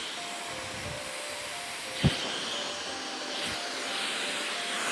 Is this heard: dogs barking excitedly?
no